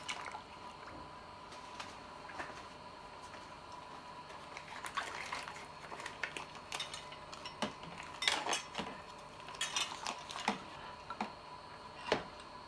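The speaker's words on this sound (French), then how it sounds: "Pour les maintenir immergés, je vais mettre une petite grille et un poids." A small rack and a weight are set into a sous-vide cooking bath holding bagged vegetables, making quiet metallic clinks and taps with light watery splashes, scattered irregularly and a little louder near the end.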